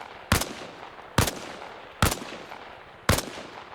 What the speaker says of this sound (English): only this time fire from a kneeling position.